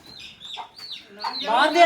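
A hen at a horse fair in Sri Muktsar Sahib gives a few sharp, close clucks and a rising squawk, loud and nearby, with little else around it.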